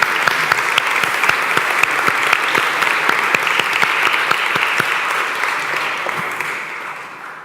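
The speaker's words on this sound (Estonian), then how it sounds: "võiksime aplausi selle eest" Audience applause at a church talk on spirituality, a steady crowd of many hands clapping together with distinct claps standing out, holding strong before tapering slightly toward the end.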